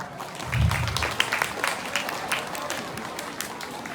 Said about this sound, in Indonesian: Beri tepuk tangan kepada mereka semua